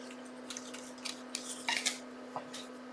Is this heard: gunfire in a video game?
no